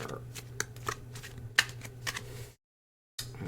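Quick papery riffling and soft slaps of tarot cards being shuffled, a handful of crisp bursts close by, then a short silence before more card noise.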